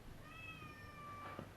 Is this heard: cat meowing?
yes